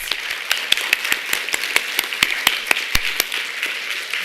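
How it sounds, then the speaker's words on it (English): Scattered applause from a small audience at an elementary school spelling bee, a dozen or so distinct claps spread over about four seconds rather than a dense roar. "Let's give everybody a huge round of applause."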